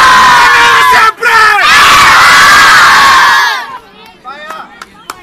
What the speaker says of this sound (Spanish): Vaya, grito de tropa.